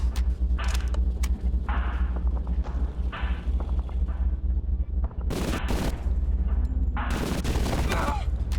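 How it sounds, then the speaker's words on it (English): Turret gunfire in the video game Zortch comes in irregular bursts and blasts over a constant low rumble, with several loud cracks near the end. "Turrets when you least expect them."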